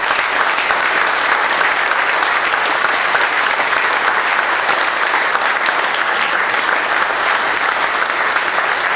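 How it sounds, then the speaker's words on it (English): Sustained audience applause at a sports hall of fame press conference, dense steady clapping from a crowd lasting the whole stretch without a break. "Could we get a final round of applause for this class of 2016?"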